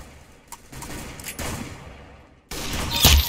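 Video-game gunfire crackles in a few scattered shots before a louder, denser burst of shooting erupts near the end, close and sharp.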